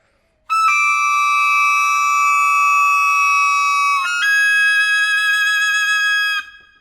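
An aulos, an ancient double-reed pipe, played aggressively with a harsh, piercing tone to imitate a serpent grinding its teeth: two long sustained loud notes, the second starting slightly higher, with no talk.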